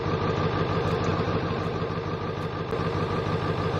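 Truck engine idling in Farming Simulator 19, a steady, loud, continuous rumble with a constant low throb that holds alone without pauses.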